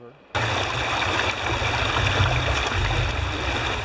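A fairly large gold-bearing river in Georgia flowing steadily, a dense broadband rushing of water that starts abruptly and continues close and even throughout.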